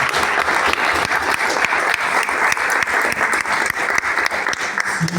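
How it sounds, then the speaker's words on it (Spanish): Steady, dense applause from an audience honoring Aníbal Borja at a cultural center event, continuous clapping close and full throughout with no talk over it. "Quisiera pedir un aplauso muy especial para el señor"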